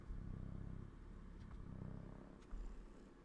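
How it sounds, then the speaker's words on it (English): A cat purrs close by, a faint, low rhythmic rumble that rises and falls with its breathing and continues without talk. "Do you hear them purrs?"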